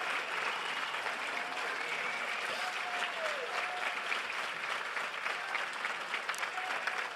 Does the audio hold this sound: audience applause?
yes